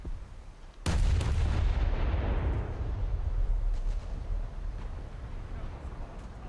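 Heavy battleship artillery in a naval video game fires one loud, booming salvo that rolls on into a long, rumbling decay.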